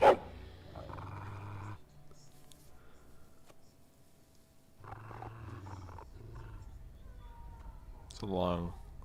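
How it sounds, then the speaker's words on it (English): A low dog growl from the video game Dragon Age: Origins comes in two long, rumbling stretches with a gap between them, moderately loud, and a person speaks over part of it. "It's a long growl"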